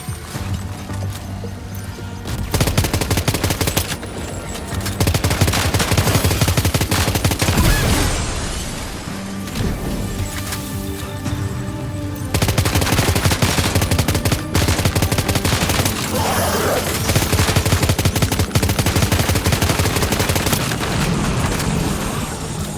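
Sustained gunfire in the video game Death Stranding 2: loud rapid machine-gun bursts and shots with occasional booms, nearly continuous for over twenty seconds with brief lulls, no talking.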